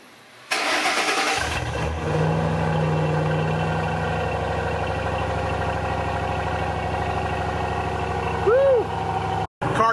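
Ford Mustang engine fired by remote start: a quick crank catches and settles into a steady, close idle rumble that holds for several seconds.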